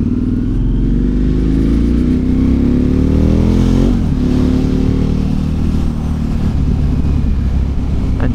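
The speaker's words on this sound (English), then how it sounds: "just simply a quick brap of the exhaust sorts the matter out" Motorcycle exhaust revving hard and close, a loud rising engine note that climbs through a gear change and then holds a strong, steady roar.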